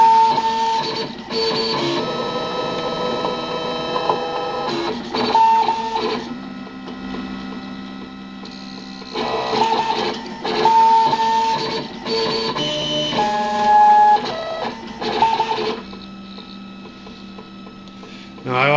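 A cutter plotter fitted with a drawing tool runs at about 600 millimeters a second, giving a steady mechanical whir with pitched motor whines that stop and start in short bursts, close and continuous for the whole stretch.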